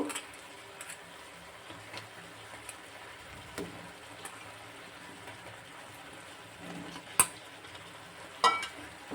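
Jujube berries tumbled into a pan for a chutney and stirred, giving a soft, steady scraping and low sizzle with a few sharper clacks near the end, quiet and without talk.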